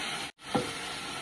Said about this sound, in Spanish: Agregamos el jugo del pollo.